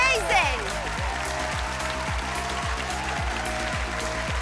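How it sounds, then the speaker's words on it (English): Audience applause at a televised talent show final for young classical virtuosos, a steady wash of clapping filling the hall under music, with rhythmic low thumps and no talk over it. "one more round of applause"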